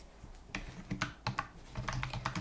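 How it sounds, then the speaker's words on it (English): Close, crisp typing on a computer keyboard at a theatre box office counter, a quick irregular run of key taps with no one speaking. "So I'm just going to type in the details"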